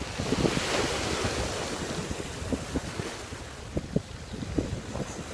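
Sea waves on the beach at Llanfairfechan, Conwy, North Wales: a steady wash of surf with gusting wind buffeting the microphone and scattered lapping splashes, continuous and moderately loud, no voices.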